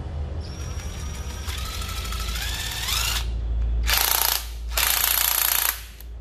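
Japanese cordless battery-powered tool running in hammer mode: a motor whines up in pitch, then two loud, fast rattling hammering bursts with a short pause between, close and alone without speech.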